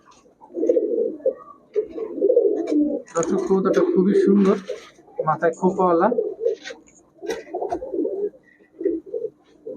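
Pallā-line pigeons held for sale by a dealer coo in low, rolling bursts close by, under steady talk from people nearby.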